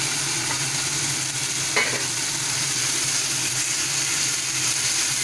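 Minced chicken fries in a pan, giving a steady, close hiss of sizzling with a brief stirring scrape partway through and no talking.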